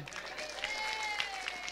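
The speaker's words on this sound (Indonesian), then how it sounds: "tepuk tangan buat madong" Audience applause for Madong at a comedic Maulid gathering, a steady wash of clapping carrying on with a voice talking over it throughout.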